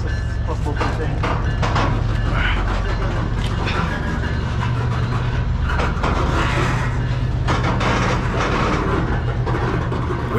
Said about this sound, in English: at least the train's moving now